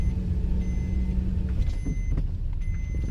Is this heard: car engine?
yes